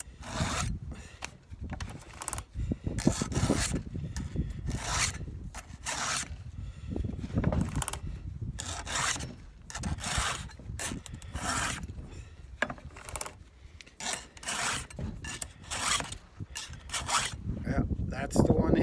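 A file is drawn repeatedly across a saw chain to take off a burr, producing steady rhythmic rasping strokes close by, roughly one per second, with faint background sound between them.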